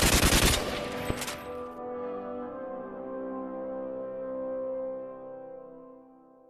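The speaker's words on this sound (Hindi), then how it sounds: "चलो सब हवाई फायरिंग करो। करते रहो, फायरिंग करते रहो।" A short burst of rapid automatic gunfire shot into the air in the Free Fire video game, loud and dense for about a second, then leaves a long ringing, tonal decay.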